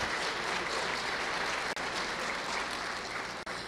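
Dense, steady applause fills a hall at a religious psychology congress, many hands clapping continuously at close range with no voices on top, briefly dipping twice before carrying on.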